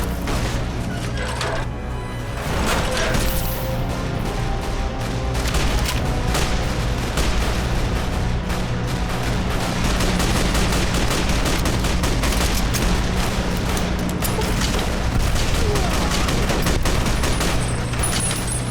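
Sustained Fallout battle at Hoover Dam, dense with gunfire including sniper rifle shots, booms and rapid fusillades, loud and continuous throughout with no clear gaps.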